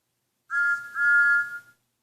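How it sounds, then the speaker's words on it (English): A single ghostly steam engine whistle sounds in two sustained blasts, the first short and the second longer, clear and fairly loud against silence. "Both engines heard Agatha's ghostly whistle."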